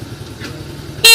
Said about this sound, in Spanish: Toca la bocina.